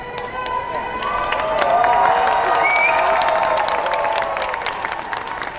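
Crowd at the Calgary Stampede marching band competition cheering and applauding, a thick wash of clapping and whoops that swells and stays loud, with scattered shouts over it.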